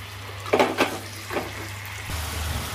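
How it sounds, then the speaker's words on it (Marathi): Prawns frying in hot oil in a pan for Goan prawn balchao: a steady, soft sizzle with a few brief clatters of a utensil against the pan near the start, and a low hum underneath throughout. "आतां प्रॉन्स फ्राय कोत्ता"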